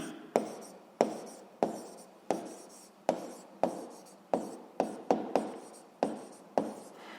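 A pen or chalk scratches out handwriting in a physics lesson, a series of about a dozen sharp strokes at an uneven pace, each starting with a crisp tap and trailing off in a brief scratch, close and fairly quiet.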